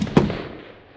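A single sharp gunshot cracks out during outdoor shooting practice, loud and close, followed by a short decaying echo that fades within a second.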